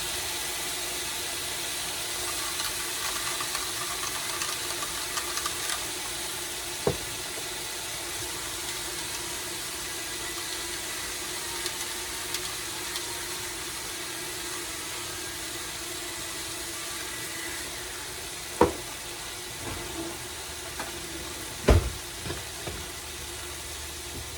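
Green beans sizzle steadily in a frying pan, a constant faint hiss of frying broken by a few sharp scrapes and knocks of the stirring utensil against the pan.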